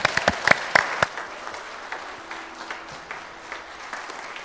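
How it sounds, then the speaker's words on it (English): Congregation applauding in a church service, a burst of loud individual claps at first settling into steady, softer clapping across the room. "Let's clap a little bit louder for the Lord."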